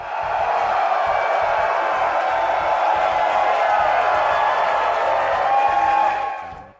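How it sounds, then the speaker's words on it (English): A huge crowd cheers and whoops at a New York Comic Con panel, a loud continuous roar of voices and applause holding steady for several seconds before cutting off sharply. "Check out this video real quick of like everybody, like the huge crowd that we got for the panel"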